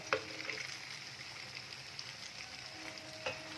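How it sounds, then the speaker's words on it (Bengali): Lentil bora for dahi bhalle fry in oil over a medium gas flame, a quiet continuous sizzle with a few light clicks and bubbling pops, heard close and alone. "এইভাবেই এখন আমি বড়াগুলোকে ভেজে নিচ্ছি"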